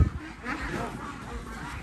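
Muscovy ducks being caught at a duck farm in Kham Bong, Thailand, a noisy flock honking and squawking together, a dense, fairly faint continuous clamor heard at moderate distance.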